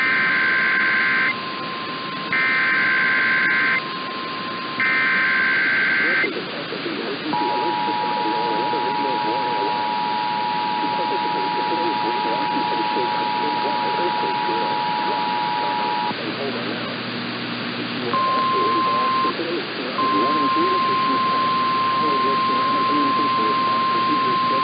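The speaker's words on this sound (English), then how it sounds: "This is a coordinated test of the emergency alert system." A broadcast Emergency Alert System test for the 2023 Great Pacific Northwest ShakeOut drill opens with three loud, harsh data bursts, followed by a long, steady electronic alert tone. An announcer's voice talks beneath the tone.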